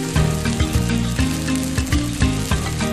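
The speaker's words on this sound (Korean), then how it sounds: "양념으로 맛 더해진 소불고기와 몸을 따뜻하게 데워주는 대파를 큼직하게 꽂아 뽀얀 밀가루 옷 입혀 노릇노릇 지글지글" Beef bulgogi and large green onion pieces on skewers, coated in flour, sizzle loudly in a frying pan in a continuous crackle with recurring soft clacks, and no one talks.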